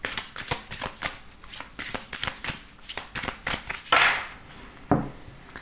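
A deck of oracle cards is shuffled by hand during a reading, a steady run of close, crisp riffling flicks, ending with a couple of louder slaps as cards are set down.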